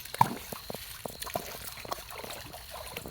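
Water trickles and drips over a night-time creek bed where dogs are running, a soft, close babble with small irregular splashes and no talking.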